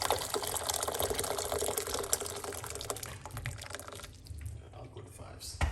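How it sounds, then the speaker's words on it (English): Hot water is poured into a large cup, a steady trickling fill with small splashes that fades and stops partway through. Room noise and faint clicks continue after the pour ends. "now we're going to put a large cups of hot water"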